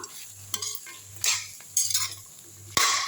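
Carrots and mixed vegetables stirred in a pan for idli chilli manchurian, with repeated scraping strokes and light clatter of utensil against metal over a soft sizzle.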